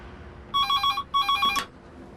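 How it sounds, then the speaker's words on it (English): A telephone in a public phone box rings with two bright electronic bursts of rapid trilling, separated by a short gap, loud and close with no talking. "When the telephone call came through"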